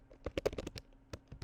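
Quick, irregular bursts of key clicks from a computer keyboard as a word is typed into worksheet software, soft and close, with no one talking.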